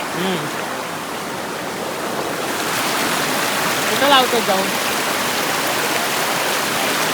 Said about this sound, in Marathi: कसला वाहता पाणी आहे